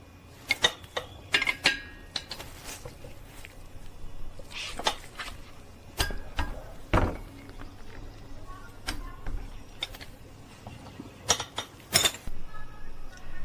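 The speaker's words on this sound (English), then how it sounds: "Now I'm going to torque the sliding pin bolts to 25 pound-feet." A torque wrench tightens the brake caliper sliding pin bolts on a Toyota Camry L, with close metallic clicks, creaks and ratcheting in scattered bursts over a low background hum.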